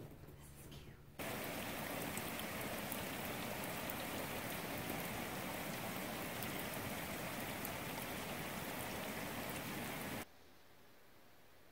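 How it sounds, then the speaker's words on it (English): Steady rain hisses outdoors in a broad, even wash for several seconds, starting and stopping abruptly, fairly faint and continuous. "So it's raining outside"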